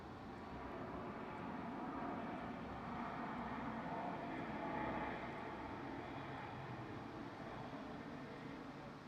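A Swiss airliner passes at London Heathrow with a steady, distant engine roar that swells gently toward the middle and then eases, with no talk over it.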